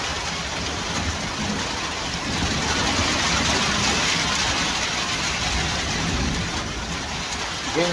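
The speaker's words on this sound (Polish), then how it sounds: "Pierwsza ulewa minęła, ale druga nadchodzi, zaczyna grzmić." Heavy downpour in a village in Poland pours steadily with a dense, close hiss, and a low rumble of thunder rolls underneath.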